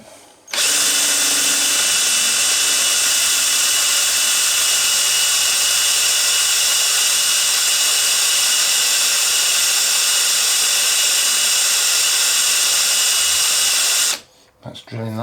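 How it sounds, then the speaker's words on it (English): A drill boring straight through the steering spindle of a GSXR1100 motorcycle frame in a line-boring setup, one loud steady whine running without a break for about fourteen seconds before stopping. "That's drilling that quite nicely. I'm going to drill it all the way through."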